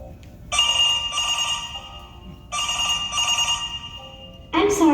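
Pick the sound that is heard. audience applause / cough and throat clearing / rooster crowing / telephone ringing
telephone ringing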